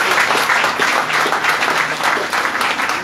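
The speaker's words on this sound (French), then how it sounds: "Applaudis" Enthusiastic applause from a church congregation at a worship service, celebrating a birthday, with dense, loud clapping that continues steadily throughout.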